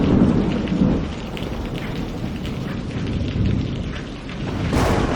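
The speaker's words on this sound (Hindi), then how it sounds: "उस रात बिजली बार बार चमक रही थी।" Heavy rain falls steadily on a stormy night while deep rolls of thunder rumble through it, with a sharper crack near the end.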